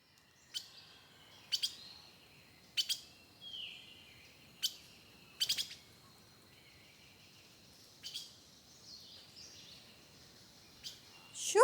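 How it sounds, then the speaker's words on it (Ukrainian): Birds chirping in short, sparse calls scattered across a quiet, still forest background in Ukraine, some notes sharper and closer than others. "Звук вітру, дерев, як співають пташки."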